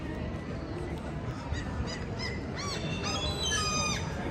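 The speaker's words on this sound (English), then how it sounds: "Damn, these are loud seagulls." Seagulls call loudly overhead in a large city square in Stockholm, sharp cries coming in clusters toward the end over a constant wash of outdoor crowd and traffic noise.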